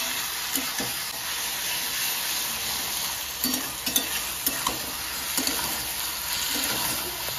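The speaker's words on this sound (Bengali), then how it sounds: "ভালো করে পেঁয়াজ রসুনের সাথে লতিটাকে আগে ভেজে নেব" Taro stolons frying in oil with onion and garlic, a close, steady hissing sizzle with intermittent knocks and scrapes of a spoon stirring the pan, no voices.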